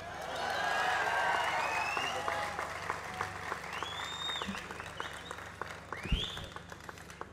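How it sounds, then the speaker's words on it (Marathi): Crowd applause at a political rally, a dense swell of clapping that peaks early then thins to scattered claps and a few whistles, with voices mixed in toward the end. "काय त्याच्या टाळ्या वाजवण्यासारखं काही नाही आहे"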